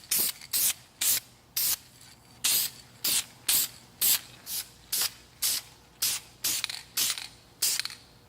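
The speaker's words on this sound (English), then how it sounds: "we're ready to start spraying" Short, close hissing bursts from a spray can lay light coats of paint onto a brake caliper, about a dozen evenly paced sprays with brief gaps between them.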